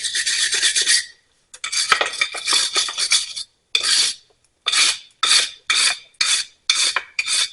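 Rasping scrubbing of a brake caliper on a 2015 Chevrolet Silverado during a pad and rotor change, with long continuous strokes at first, then a run of short, evenly spaced scrapes that repeat close up and loud.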